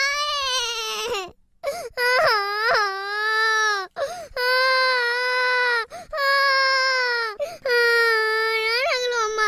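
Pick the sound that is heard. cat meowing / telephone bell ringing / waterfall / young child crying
young child crying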